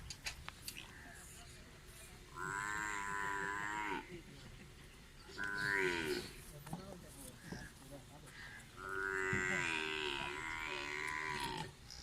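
Friesian cross cows lowing in three drawn-out moos, each lasting one to three seconds, with the last one longest, clear and near over low farmyard background noise.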